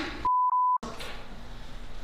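A censor beep cuts in over a name as a single loud steady tone that briefly stutters, then stops. Quiet indoor room sound follows.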